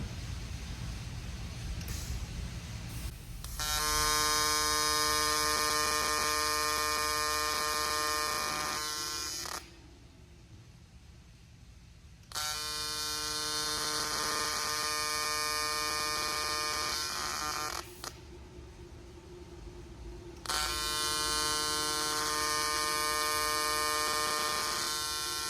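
An AC TIG arc from a YesWelder TIG200P at 150 hertz strikes on aluminum without filler metal, giving three long, loud, steady buzzing hums separated by short quiet gaps.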